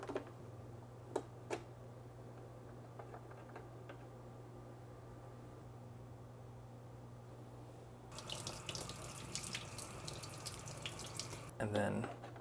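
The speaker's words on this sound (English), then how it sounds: "you still need to take it out and rinse it under warm water" Warm tap water runs steadily over the aroma pad of a Levoit Classic 300S humidifier, a broad rushing splash beginning partway through after quiet moments with faint clicks and handling.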